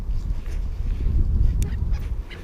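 Crows and seagulls squabble at a woodland feeding spot with suet set out, giving harsh calls and squawks over a low, rumbling outdoor background with some wind buffeting.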